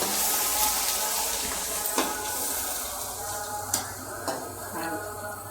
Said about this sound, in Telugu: కొద్దిగా పసుపు కూడా వేస్తున్నానండి. వేసుకుని ఇది కూడా కొంచెం ఫ్రై చేసుకోవాలి